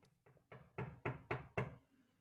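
Knocking on the south entry door as a radio play sound effect: seven firm raps, starting soft and growing louder, quickening slightly, then stopping, heard alone against quiet.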